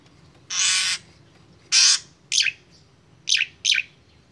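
Five short bursts of bright bird chirping, sharp and fairly close, separated by brief pauses over a faint background hum.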